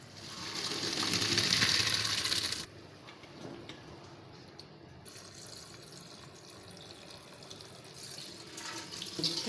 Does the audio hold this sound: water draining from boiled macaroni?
yes